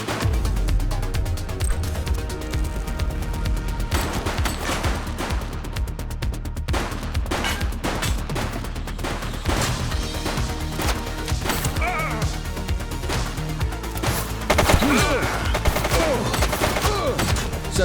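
Sustained gunfire in the police game The Precinct, a dense stream of rapid shots and sharp cracks layered over continuous action noise and music, loud and close, with a brief spoken line mixed in.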